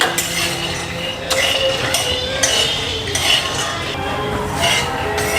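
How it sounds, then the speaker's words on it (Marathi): Peanuts roasted in a metal pan for laddoos, with repeated clinks and scrapes of a spoon stirring and tossing them, a continuous rattling clatter with a few sharper strikes. "आता शेंगदाणे भाजून घेऊ आपण."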